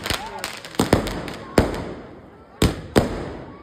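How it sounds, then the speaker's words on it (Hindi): A quick series of sharp firecracker bangs at a wedding celebration, about six cracks in uneven bursts, loud and close, with faint crackle between. "पटाखा"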